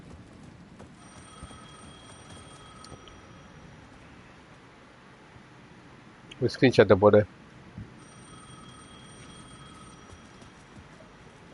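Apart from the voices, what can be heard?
payphone ringing in video game Alan Wake II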